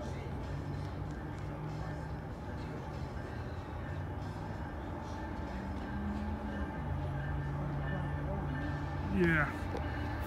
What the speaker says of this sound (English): So we have another monster train.